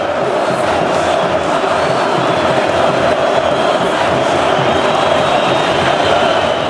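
Cruzeiro football supporters chanting in unison inside a packed stadium, a loud, sustained roar of massed voices that stays steady and close for the whole stretch.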